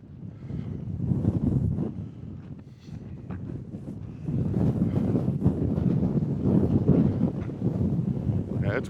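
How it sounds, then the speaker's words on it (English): Gusty wind blowing across a microphone at the Lake Mead shoreline, a continuous low rumbling buffet that swells louder in the second half, with faint voice-like sounds mixed in. "Yeah, it's windy out here today"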